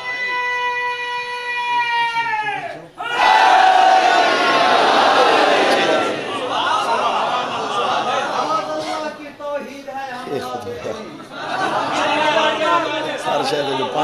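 At a Muharram religious gathering, a single voice calls out, then a large crowd bursts into loud chanting of a religious slogan, the shouts rising and falling in waves.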